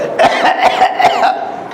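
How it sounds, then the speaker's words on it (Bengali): A series of four or five short, dry cough bursts comes in quick succession, close and loud, with no phlegm sound between them. "কাশি সাধারণত শুকনো কাশি খুব কুক খুক খুক করে কাশি হয়"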